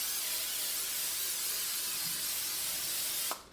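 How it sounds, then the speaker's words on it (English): Pam cooking spray hissing from the can into a muffin-style pan, one continuous close, bright spray lasting about three seconds before cutting off, followed by a brief clatter. "I'm going to hit it with some Pam cooking spray"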